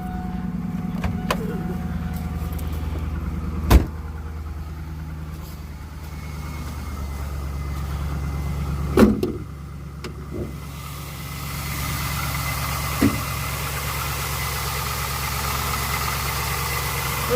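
A GM LS V8 engine idles steadily with a low, even drone. A few sharp clicks and knocks cut in at intervals, and no one speaks.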